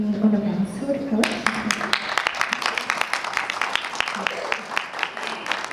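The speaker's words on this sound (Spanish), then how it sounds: "Un aplauso, por favor." An audience at a Lebanese film festival talk breaks into applause after about a second, with dense clapping that continues steadily to the end, following a short spoken introduction.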